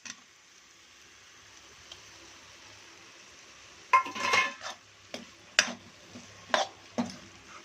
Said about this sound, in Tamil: ஆல்ரெடி வறுத்து வச்ச சிக்கன், வெங்காயம், தக்காளி, கருவேப்பிலை எல்லாத்தையும் மூணுத்தையும் போட்டு நல்லா ஒரு மிக்சிங்கு